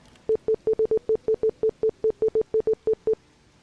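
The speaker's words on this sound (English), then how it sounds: "I just got sent Morse code." Short electronic Morse code beeps inside the video game Elden Ring Nightreign, about fifteen clipped tones at one steady pitch in an uneven dot-and-dash rhythm, clear and alone over faint background hiss.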